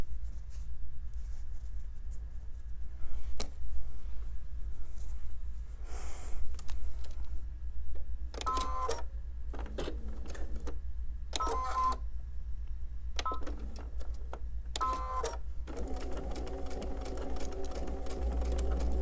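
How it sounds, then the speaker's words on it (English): A sewing machine joins fabric pieces in several short, clattering bursts of stitching over a constant low hum, ending in a longer steady run. "So now we're going to sew this one to this one."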